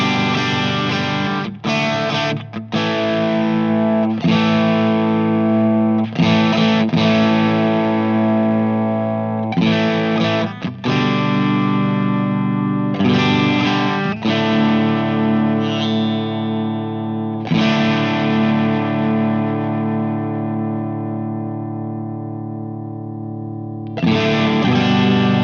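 Crunchy, overdriven electric guitar played through a British-style amp model with the sag raised, giving loud ringing chords and riffs that pause between phrases, with no talking.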